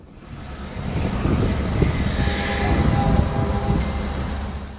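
A Union Pacific freight train rumbles past on the eastbound line through Grand Island, led by locomotive UP 5476; a low, swelling roar with faint wheel squeal and clatter, and no talk.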